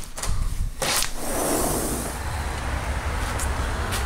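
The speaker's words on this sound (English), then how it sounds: "You can hear the cars going by." Traffic rushing past on a street beside a house's back patio and side yard, cars moving fast, heard as a steady, fairly loud broadband roar with brief swells as vehicles pass, no talking.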